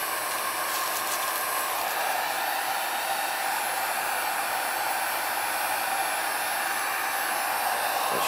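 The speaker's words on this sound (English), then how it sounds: "heat gun." A heat gun blows steadily while shrink wrapping a bag of freeze-dried tomato, ham and cheese sandwich, a constant close rushing roar with no pauses or voices.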